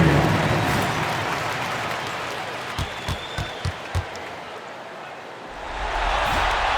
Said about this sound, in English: Let's give a big round of applause for your dancing